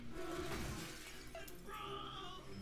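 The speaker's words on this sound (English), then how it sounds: "Sure hope this glass doesn't break." Glass shatters in the Helluva Boss animated show, a faint crash mixed into a busy soundtrack backdrop.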